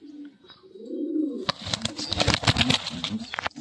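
Racing pigeons coo in low, rolling phrases, close by, then a burst of flapping or rustling and sharp clattering noise takes over the rest of the short stretch.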